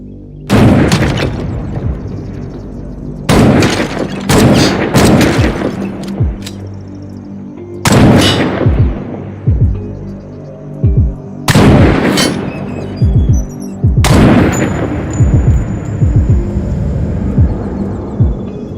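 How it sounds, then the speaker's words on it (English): In the Night of the Dead video game, a bolt gun or MC7 fires loud, booming shots in several bursts, each followed by a rolling echo, with the game's background sound filling the gaps. "The bolt gun or the MC7?"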